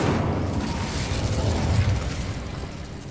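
An Incendio fire spell cast in Hogwarts Legacy, a heavy whooshing burst of flame with deep booming rumble that holds loud and steady before easing slightly at the end.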